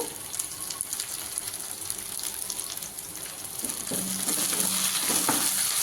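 A chicken curry base with curry leaves fries in a pan and is stirred. A soft, steady sizzle builds slightly louder toward the end, with a few clinks of the utensil.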